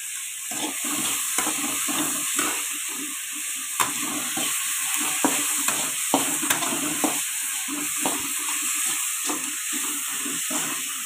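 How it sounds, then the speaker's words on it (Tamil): Vegetables sautéing in a pan with powdered salt give a constant, moderately loud hiss, with occasional sharp stirring clicks and scrapes scattered through it and no speech. "உப்பு போட்டால் இன்னும் நல்லா வதங்கிடும், சட்டுன்னு வதங்கிடும்."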